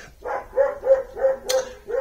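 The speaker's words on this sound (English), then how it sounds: "Now this one's going to start up barking in a minute." A house dog barks in a steady series of about six sharp, close woofs spaced roughly a third of a second apart, loud and alone with no talking.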